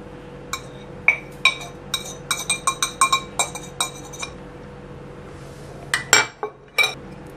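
Boiled raw banana being mashed with spices in a dish, with a series of light metallic clinks and taps as a utensil strikes the dish in an irregular rhythm, close and fairly quiet, with no talking.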